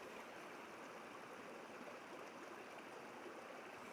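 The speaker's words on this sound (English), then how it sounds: "there is actually a couple of waterfalls that could give me a leading line right to left" Steady rushing water from small waterfalls on the Allt Mathaig stream in Scotland, pouring continuously at an even level, fairly close, with no voices.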